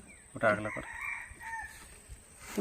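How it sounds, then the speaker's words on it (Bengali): A rooster crows once nearby, heard from a boat while crab fishing, a loud drawn-out call with a rising and falling tail, followed by quiet outdoor background and a brief sound at the end. "ভালোই তো ডাকছে মোরগটা"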